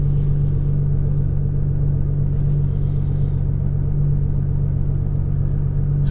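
A 2016 Nissan GT-R Premium with Boostlogic tuning idles steadily, heard from outside the car: a constant low rumble holds level throughout, with no revving and no talk.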